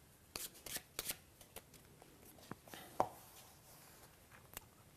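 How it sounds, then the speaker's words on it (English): Playing cards are being shuffled together by hand in a quiet room, producing quick, soft riffling flicks and snaps in irregular bursts, faint and close, with no one speaking. "we will shuffle the two halves into one another as well"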